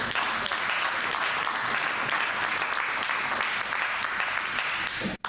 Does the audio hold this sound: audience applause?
yes